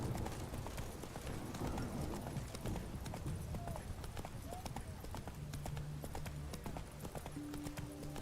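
Roach the horse's hooves clip-clop steadily in The Witcher 3, a continuous rhythmic trot close by, with talk over it.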